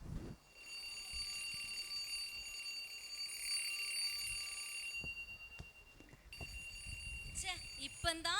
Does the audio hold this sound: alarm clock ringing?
yes